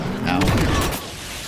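A grenade explosion in a Star Wars video game, a dense booming blast amid battle noise, with voices talking over the din.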